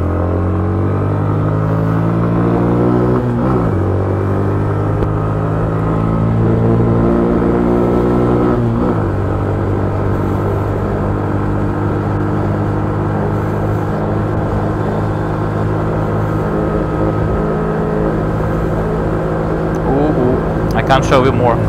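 A 2017 Honda MSX125 Grom motorcycle runs at full throttle, its engine note climbing through gear changes and then holding a long, strained drone at top speed, loud and close with wind rush.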